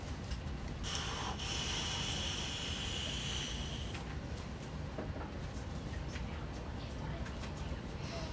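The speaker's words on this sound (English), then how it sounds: "Let's have vape." Vaping on a Wotofo Profile Unity RTA atomizer with a mesh coil: a steady, close airy draw and hiss lasting several seconds, fairly faint and continuous.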